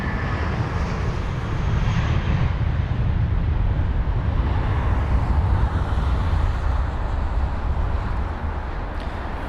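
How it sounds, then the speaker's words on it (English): An Airbus A320 at London Heathrow roars as a broad, steady engine rumble with wind-like rush, holding loud and close throughout. "A320 just in front of us"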